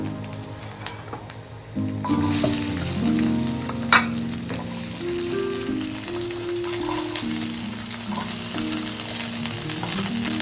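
Onions and curry leaves fry in a pan for a mackerel fish curry, a loud steady sizzle that jumps up as the ingredients go in after a quieter start, with occasional stirring scrapes, close and continuous.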